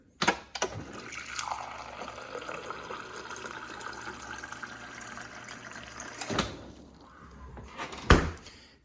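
Water pours steadily from a Samsung Bespoke French door refrigerator's dispenser into a container for several seconds, then stops with a click and a clunk.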